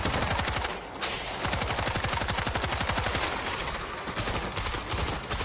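Rapid automatic gunfire from a video game zombie shootout rattles in dense, continuous bursts, loud and close, with only a brief pause near the start.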